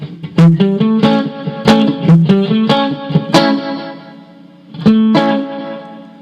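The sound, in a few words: guitar through FlyRig 5 effects with delay and reverb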